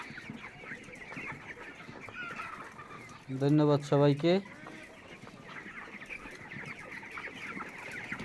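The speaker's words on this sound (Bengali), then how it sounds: "আমার ভেজের সবচেয়ে ছোট সাইজের মুরগি এইটা" Chickens of a small breed kept in a village coop in winter give a loud, close burst of clucking calls lasting about a second, set against steady outdoor background noise, with a person speaking briefly.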